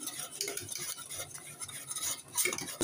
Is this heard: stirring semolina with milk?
yes